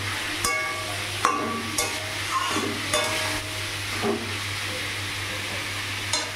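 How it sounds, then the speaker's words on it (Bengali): Dry red chilies and black cumin sizzle in hot oil in a pan for an ilish fish head and chal kumro dish, a steady frying hiss broken by several sharp crackles and stirring scrapes, close and with no voices. "শুকনো লঙ্কা ফোড়ন।"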